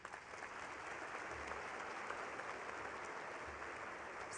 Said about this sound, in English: I ask the audience to recognize them for their achievements with another round of applause